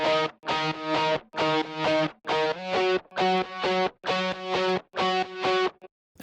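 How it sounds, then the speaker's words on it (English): Solo distorted lead electric guitar from a remix track, playing a melodic line in evenly spaced, sustained note phrases with brief gaps, loud and upfront. "And here's the lead guitar by itself."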